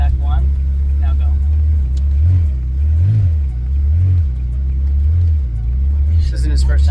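A station wagon pulling away and gathering speed, a loud near engine hum rising and falling in pitch through the gears, with voices speaking over it inside the car.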